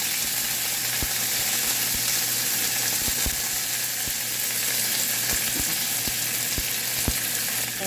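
Curry leaves fry in hot oil for a South Indian rasam, giving a loud, continuous crackling sizzle that runs unbroken for several seconds. Sharp pops and spits punctuate it throughout.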